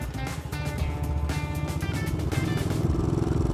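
A German BMW motorcycle with an H-pattern gearbox on the move, its engine running loud and close in a steady rough drone, with rumble and some rattle and no talking.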